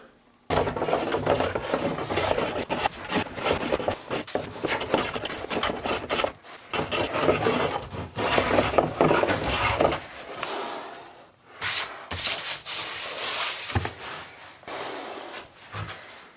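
A hand plane shaves a cherry wood slab in a workshop, a long run of rasping, scraping strokes with short pauses between them, close and fairly loud, with no voices.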